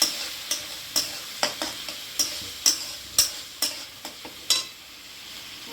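A paste of poppy seeds and white mustard seeds with green chillies fries in a pan. It is stirred in a quiet, regular rhythm of sharp scraping strokes over a faint, soft sizzle.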